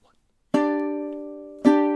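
Two ukulele chord strums a bit over a second apart, the first after a short silence and the second sharper, each ringing out clearly as part of a riff, with no voice over them.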